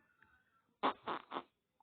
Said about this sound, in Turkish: Lan osurdu.